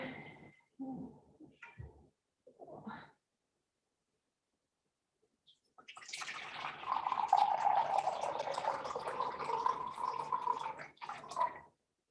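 Water is poured into a jar for making oat milk, a steady splashing fill lasting several seconds after a few short clinks and handling sounds and a quiet pause.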